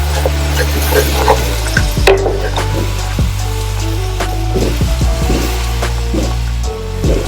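Half a cup of flour stirred and toasting in a hot pan, with soft scraping strokes and quiet clinks of the utensil against the pan, close and fairly loud, with no talking.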